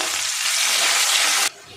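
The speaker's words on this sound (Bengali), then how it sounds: "পেঁয়াজটা একটু ভালো করে ভেজে নেব" Chopped onion frying in hot oil in a home kitchen pan, cooked for a village-style dish with mocha and fish head: a loud, dense, steady sizzle that cuts off sharply near the end, leaving a quieter hiss.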